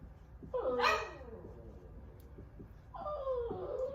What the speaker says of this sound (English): Got one dog that wants out and one dog that wants in.